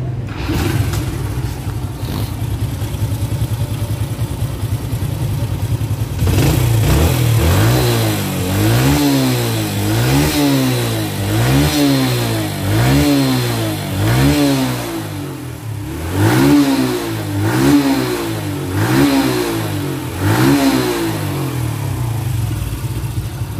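A Honda Super Dream motorcycle with a modified 110 cc engine idles loudly up close, then is revved repeatedly in rising and falling bursts, a steady rhythmic throttle pattern with no talk.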